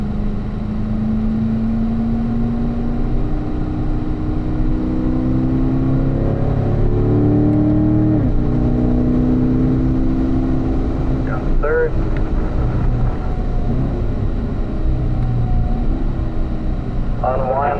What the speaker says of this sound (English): Getting up to speed, let's get up to 4th gear, accelerate into turn 2.